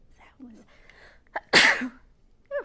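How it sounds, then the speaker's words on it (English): A single loud sneeze bursts out after some soft vocal sounds, followed by a brief voice afterward. "I'm gonna sneeze."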